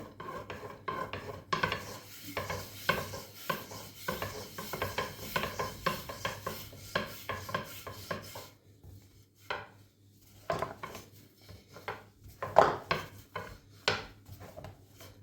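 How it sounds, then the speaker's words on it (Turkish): Layered poğaça pastry dough being rolled out thin with a rolling pin, giving repeated rubbing, scraping strokes in a steady rhythm, close and fairly loud, with a short pause midway. "ikinci bezemi açmaya başlayacağım."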